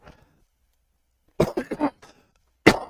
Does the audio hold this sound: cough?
yes